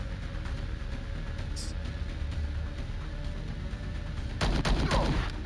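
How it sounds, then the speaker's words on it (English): Explosions burst out in the video game Star Traders: Frontiers, a grenade among them, as loud broadband bangs arriving in a quick cluster near the end, over a steady game soundscape with a short high chirp earlier. "Oh, the grenade."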